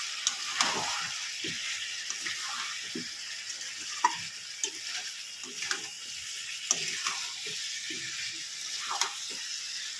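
Salted chicken being stirred in a cooking pan in a village-style kitchen, with soft, irregular scrapes and clinks over a faint, steady sizzle.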